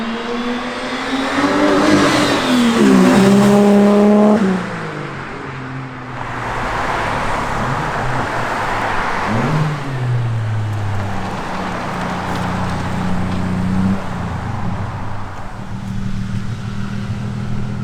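A Ford AU Falcon with a custom pod air filter revs hard and rises in pitch, then drops and settles. It revs again as the car passes close by, with a steady roar underneath.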